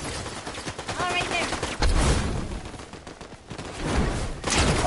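Rapid Fortnite gunfire crackles in quick bursts, fairly loud and close, with a few heavier shots standing out, while someone talks over the action.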